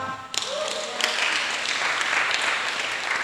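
A burst of applause from a crowd, steady clapping that starts abruptly and continues throughout at a fairly even level.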